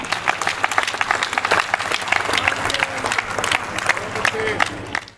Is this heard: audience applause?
yes